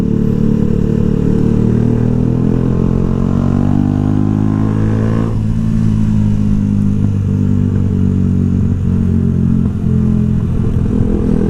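Yamaha YZF R125 ridden slowly through town, a steady, loud low engine drone with small throttle changes and wind buffeting, heard from the rider's position with no talking.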